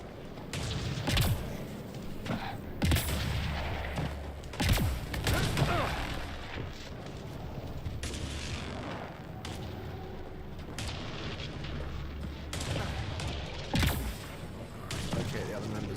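Sci-fi gunfire from the video game Mass Effect Andromeda cracks out in several sharp, loud bursts spread across the scene, over a low droning ambience, with voices talking at times.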